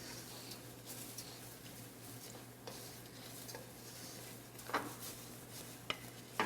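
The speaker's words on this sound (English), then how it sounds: "we want to add some our garlic. And saute for a few more minutes before we add our liquid ingredients." Rice and garlic sauté in a pan, a soft continuous sizzle with occasional scraping stirs and light clinks of a utensil against the pan, fairly quiet with no talking.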